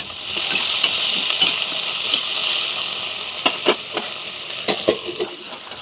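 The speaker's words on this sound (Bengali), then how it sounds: "হালকা একটু নেড়ে চেড়ে দিয়ে দিলাম পরিমাণ মতো হলুদ, স্বাদ মতো লবণ দিয়ে ভালো করে নেড়ে চেড়ে ঢাকা দিয়ে দেবো।" Okra frying in a pan with turmeric and salt, a steady high sizzle broken by repeated short scraping stirs, close and fairly loud throughout.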